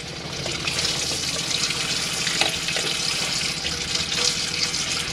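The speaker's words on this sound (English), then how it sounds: "you do have that water systems that you pump on, so you've got your warm water's coming through there" Warm water runs steadily from a pumped tap in a Tribute T650 caravan, a continuous close splashing rush at even loudness with no speech.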